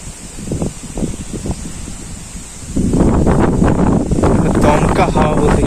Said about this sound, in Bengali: গাছগুলো দেখলে তোমরা বুঝতে পারবে কিরকম একটা ঝড়ের তাণ্ডব শুরু হয়ে গেছে